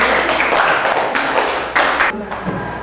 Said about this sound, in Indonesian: tepuk tangan untuk kelompok ekuitas